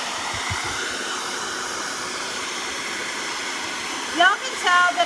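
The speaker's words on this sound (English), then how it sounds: "I'm going to shoot the hairdryer on it because I don't want to keep y'all here all night." A hair dryer on medium heat blows over a decor transfer, a steady loud broadband whoosh held for several seconds, with a short burst of talking near the end.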